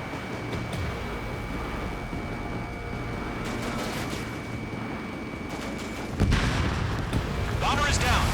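Heavy gunfire and explosions in the video game Ace Combat 7 during a harbor attack, a dense continuous rumble of fire with a louder burst near the end.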